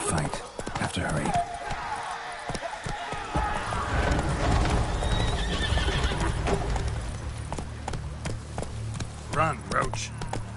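A horse's hooves gallop in The Witcher video game, with loud clip-clop footfalls and whinnies over game ambience while a voice speaks.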